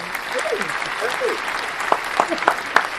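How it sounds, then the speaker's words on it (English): A brief round of applause greets guest Miguel Hernandez on a podcast episode, a light patter of clapping that sits under talking voices and trails into a few scattered claps. "y'all give a round of applause for Miguel"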